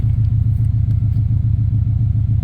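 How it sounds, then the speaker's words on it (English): A 1994 Subaru Impreza WRX engine idles smoothly through a massive aftermarket exhaust, a loud, deep, steady pulsing rumble close by with no voices. "So engine's all back in and running, as you can see, which is pretty impressive. It sounds really good, runs nice."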